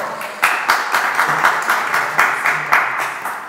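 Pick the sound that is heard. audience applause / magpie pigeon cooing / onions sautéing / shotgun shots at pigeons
audience applause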